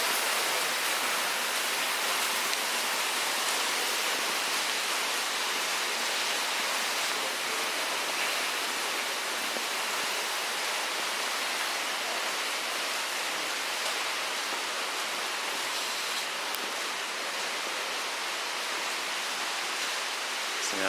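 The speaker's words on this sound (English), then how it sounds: "And the water from above, that's just excess runoff from the basin." Inside the tunnel beneath the Niagara Parks Power Station, runoff water pours and seeps from above in a constant broad roaring rush that echoes, steady and unbroken for twenty seconds with no talking.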